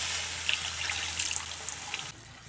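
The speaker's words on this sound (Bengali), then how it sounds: "এখন পালং শাকের জল দিয়ে দেব।" Spinach water poured into a frying pan of fried spices, a steady hissing splash with a bright watery wash that cuts off abruptly near the end, close and moderately loud with no talking.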